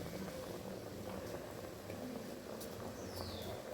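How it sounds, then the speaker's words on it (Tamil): Lentils in a pot bubble at a steady simmer, soft continuous gurgling and hiss with faint scattered pops, close but quiet, no voices. "இப்போ நல்லா கொதிக்குது."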